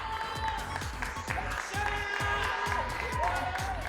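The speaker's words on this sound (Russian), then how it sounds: "Вот так болельщики встречали каждый точный удар Бихруза" Taekwondo fans at the Children of Asia Games break into applause and cheers after a clean strike, a steady crowd roar with clapping running through the whole short stretch, some voices rising above it.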